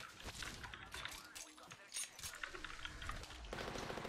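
Rapid gunfire crackles through a frantic video game firefight, bursts of shots stacking densely throughout while a voice talks excitedly over the shooting.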